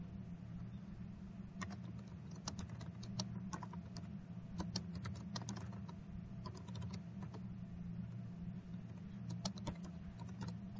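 Fast, irregular clicking of keys on a computer keyboard, quiet and close against a low steady background hum.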